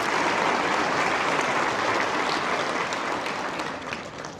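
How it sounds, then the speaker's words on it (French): A crowd at the Quebec agriculture hall of fame ceremony applauds its platinum category partners, with dense, sustained clapping that fills the room and tapers slightly at the end. "Donc, une bonne main d'applaudissements pour nos partenaires de la catégorie platine."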